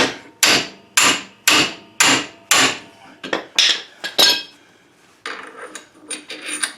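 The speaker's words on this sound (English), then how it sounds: "Hammer time." Sharp metallic hammer blows ring out in a steady rhythm, about two per second, then come more irregularly and lighter near the end, as axle parts are hammered together during reassembly.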